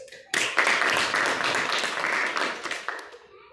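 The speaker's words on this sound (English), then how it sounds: "let's give Youth Leader Bushra Shami a very great round of applause" An indoor audience gives a youth leader at a speaking meeting a burst of applause, dense clapping that starts abruptly, holds steady for a few seconds, then fades out.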